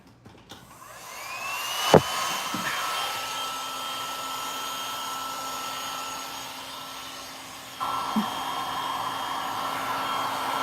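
A heat tool blowing steadily across a fresh epoxy resin coating, a sustained airy whir that starts with a click and shifts pitch slightly partway through, close and fairly quiet.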